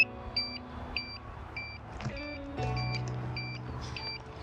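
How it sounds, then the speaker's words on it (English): A Holybro Kopis2 HDV FPV drone with a DJI Digital FPV system beeps because its throttle is not fully down: a regular series of short, high, two-tone beeps repeating about every half second, over faint mechanical noise and a low hum. "Throttle needs to be all the way down. That's why the sound was beeping."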